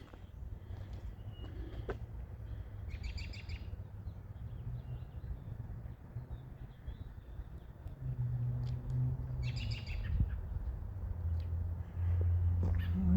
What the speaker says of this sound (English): He's up there squawking, making his noise.